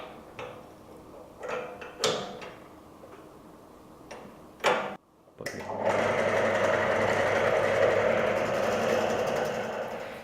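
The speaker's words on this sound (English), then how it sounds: "So we start the machine and begin to pull the handle." Industrial oil friction test machine starting up with its handle being pulled: scattered clicks and knocks first, then a steady loud mechanical whir and rattle running continuously to the end.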